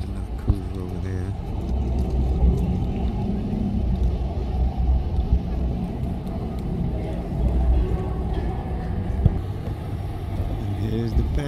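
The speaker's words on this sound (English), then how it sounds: "And here's the paddy wagon." A police paddy wagon pulls up on a city street, its engine a steady low rumble of vehicle noise lasting several seconds while people talk nearby.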